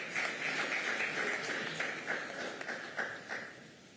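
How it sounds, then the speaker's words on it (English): Applause from the audience at an engineering workshop session for its presenters, moderately quiet and diffuse, steady clapping that thins slightly toward the end. "A round of applause to all our presenters for this session."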